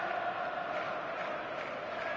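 Stadium crowd in the eFootball video game before a match, a steady distant roar of many voices with faint chanting, continuous and even throughout.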